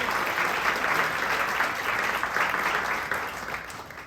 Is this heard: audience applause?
yes